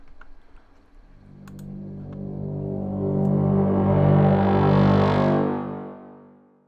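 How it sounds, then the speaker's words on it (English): A synth layer with reverb applied in the Output Substance instrument swells into a dense, sustained chord that builds, brightens and then fades out. A few faint clicks sound near the start. "So I think I want to apply some reverb to that layer."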